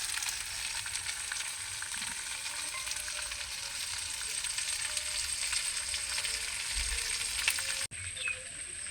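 Spices sizzle steadily in hot oil with rohu fish head and yam, a continuous bright frying hiss with faint stirring, briefly interrupted near the end.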